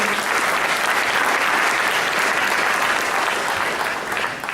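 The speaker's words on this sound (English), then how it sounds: "So I want to give Maria Urena a round of applause" An audience applauds steadily for several seconds at an alumni gathering, a dense, loud wash of clapping that fades slightly at the end.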